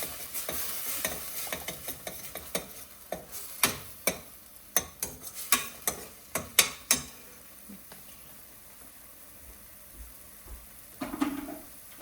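Food being sautéed in a home pan, with a string of sharp utensil scrapes and knocks against the pan during the first seven seconds, then quiet with a faint sizzle and a brief soft sound near the end.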